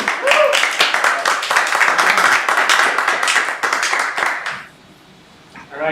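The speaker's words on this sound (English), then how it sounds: "All right, round of applause, everybody." A burst of clapping and applause from a crowd at a Global Game Jam 2025 closing presentation, dense and steady for about four seconds, then quickly fading to near silence.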